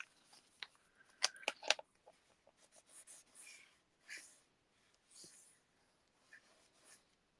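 Scissors trimming card for handmade cards, a few sharp close snips clustered early, then softer scattered rustles and handling noises, quiet overall.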